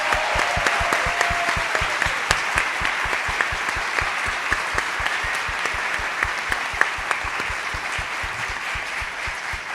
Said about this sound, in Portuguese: palmas para Conceição Evaristo.